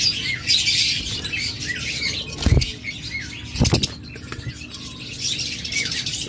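A pair of green opaline budgerigars in a breeding cage keep up a busy, bright chatter of squawks and chirps, broken by two short loud bursts of wing flapping close by.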